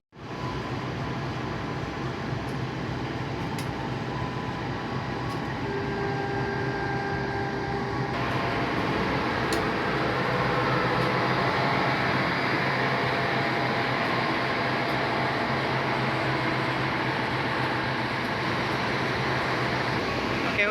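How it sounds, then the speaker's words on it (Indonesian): Two idling diesel locomotives with a power generator car, coupled to the Kutojaya Selatan train, give off a loud, continuous mechanical drone with steady hum and engine rumble, close by and unbroken for the whole stretch. "Ini berisik, ada pembangkit, ada 2 lokomotif."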